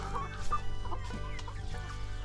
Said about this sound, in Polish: rzućmy okiem, co tam słychać u kurczaków i u Stasia